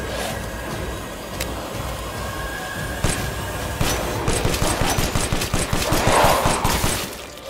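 Sustained gunfire in Resident Evil Village, first a few sharp shots, then a long, rapid, loud automatic stream of closely spaced reports filling the second half.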